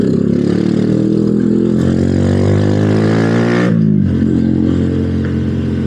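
A Keeway CR152 motorcycle engine drones loudly up close while riding, pitch climbing through a gear then dropping briefly before settling again.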